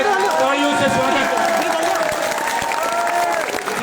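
A rally crowd applauds to welcome politician Abhay Singh Chautala, dense sustained clapping and crowd noise throughout, with an amplified voice over it.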